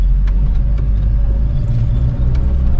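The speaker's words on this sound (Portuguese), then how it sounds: "E o Uno passa mais uma vez pela barreira da PRF." A Fiat Uno converted into a small camper rolls past a federal highway police checkpoint, its engine and tyre rumble steady and loud with low road noise throughout.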